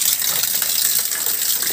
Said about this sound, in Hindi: यहाँ से भी पानी निकलता है देखो